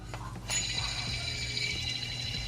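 A worn belt tensioner pulley from a supercharged Range Rover is spun by hand, giving a close, gritty grinding rattle that rises suddenly and then whirs on, slowly fading.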